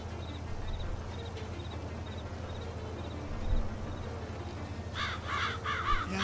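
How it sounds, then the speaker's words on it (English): Crows caw repeatedly over a steady low engine-like rumble outdoors near a farm field being cut for grass, with a louder burst of cawing toward the end. "You see the crows at work?"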